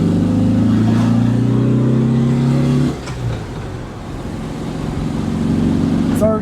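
A 1968 VW Type 3 engine with dual 34 carburetors accelerates in gear with a loud, rising drone up close, then drops briefly at a shift and climbs again, with no talking.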